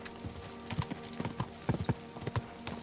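A horse's hooves clip-clop in Kingdom Come Deliverance 2, with quick, uneven hoofbeats close up at a steady trot and no talking over them.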